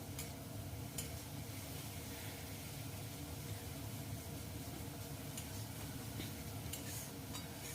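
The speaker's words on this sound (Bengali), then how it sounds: "মশলাটা ভালো করে কষিয়ে নিচ্ছি" Steady sizzling from a pan with a spoon scraping and stirring spice paste for chana dal, continuous and close, with no talking.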